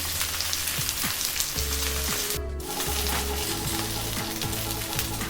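Pre-cooked black pudding crisps in a cast iron pan on a BBQ grill, giving off a steady, close, dense sizzle and crackle for the whole stretch, with no one talking.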